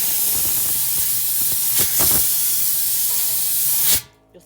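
Compressed air blasts out of an OMC dual line pressure tank during cleaning, a loud, close, continuous hiss with a few brief fluctuations. It cuts off abruptly near the end, leaving near silence.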